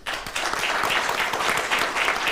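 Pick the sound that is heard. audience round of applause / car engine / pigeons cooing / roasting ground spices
audience round of applause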